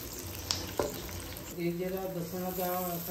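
Half a kilo of minced meat and two small onions frying in about half a cup of oil for matar keema, a steady close sizzle with a couple of sharp utensil knocks, then the crackle carrying on under a low voice.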